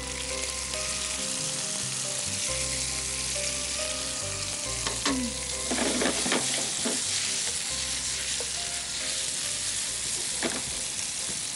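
Potatoes frying in oil in a pan give a dense, continuous sizzle with bursts of stirring and spoon scrapes midway, over a low steady hum.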